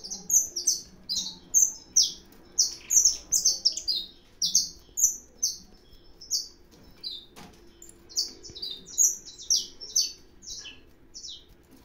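Saffron finches calling in an aviary, a flurry of sharp high chirps and short tweets in rapid irregular bursts, near and lively, with occasional wing flutters and a quiet background.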